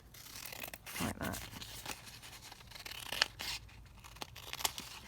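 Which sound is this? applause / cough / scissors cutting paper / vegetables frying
scissors cutting paper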